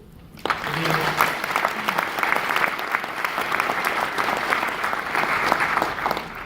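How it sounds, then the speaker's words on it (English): Audience applause fills a hall at a West Virginia State University presidential speech, a dense, steady clapping that starts abruptly after a brief pause and continues loud and even throughout. "So please join me in applauding West Virginia State University National Alumni Association President, Dr. Zafor."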